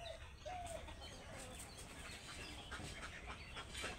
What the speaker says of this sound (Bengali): দেখেন এই যে হাঁস আছে, মুরগি মারামারি করতেছে